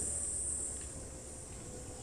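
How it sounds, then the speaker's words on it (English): Cicadas drone in a loud, continuous high-pitched buzz during a live safari drive, holding steady with no pauses from start to end. "The cicadas are so loud at the moment."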